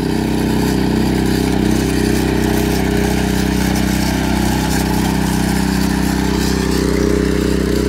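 A power tiller built as a mini tractor runs at a steady idle, a loud, constant mid-pitched engine drone with a fast, even firing rhythm, close to the microphone and with no talking over it.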